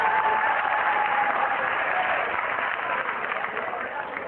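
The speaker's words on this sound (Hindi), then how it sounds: "प्लीज ताली बजाते रहिएगा।" A crowd of students claps at a college fresher party, heard as continuous dense applause that holds steady and eases slightly toward the end, with no distinct voices on top.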